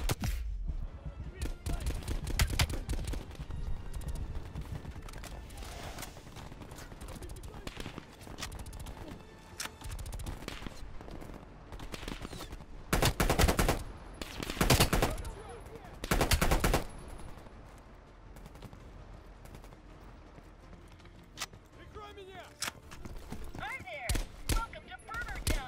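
Gunfire in Call of Duty: Black Ops Cold War, loud bursts of automatic fire that come in heavy clusters over a steady battle din, with a player talking now and then.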